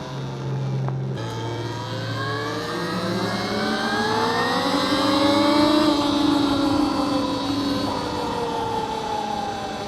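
A Segway Xaber 300 electric dirt bike rides in its 150 mode, its motor whine climbing steadily in pitch as it accelerates, loud and close, with a gear-like step near the start and wind rush around it.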